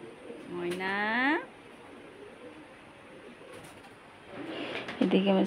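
Pet birds in a home yard call with clear, harmonic chirping whistles, one rising-falling burst early and another near the end, separated by a quieter stretch of background noise.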